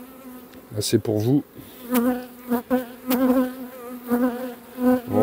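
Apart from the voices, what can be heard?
winter honeybees buzzing at an apiary hive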